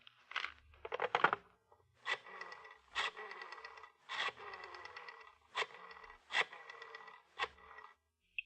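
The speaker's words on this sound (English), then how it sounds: "The sound of the flipping pages." Pages of a telephone book are flipped as a radio drama sound effect, a series of about nine quiet papery riffles and rustles at a steady, unhurried pace, with no voices.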